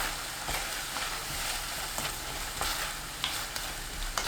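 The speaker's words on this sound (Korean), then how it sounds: "테두리 부분을 긁어내듯 저어주면서 끓입니다." Sliced burdock sits in sauce bubbling in a pan on high heat, giving a soft, quiet sizzle with repeated light scrapes and taps as a utensil stirs around the edges.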